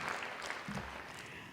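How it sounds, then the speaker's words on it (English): Audience applause fills a hall at an evening gathering, a steady wash of clapping sustained throughout at moderate level with no clear talk over it. "We need to give her a huge round of applause"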